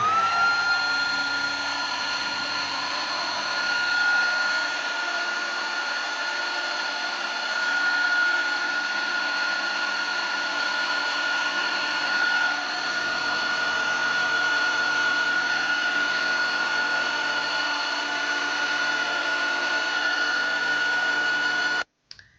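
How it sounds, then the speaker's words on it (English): A heat gun blows hot air onto a candle-making vessel with a steady, loud, continuous whirring hiss for about twenty seconds, then cuts off abruptly at the end. No one talks. "Now I'm going to take my heat gun and just heat the vessel."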